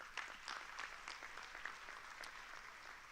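An audience at a public hearing on local government claps in a brief, steady round of applause, moderately close and fairly quiet, with a faint voice underneath.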